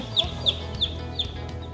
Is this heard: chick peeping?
yes